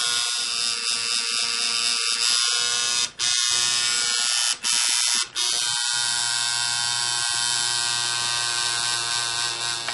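A tattoo machine buzzes steadily and close while shading bright yellow ink into skin, a loud continuous electric whine that stops briefly three times before resuming.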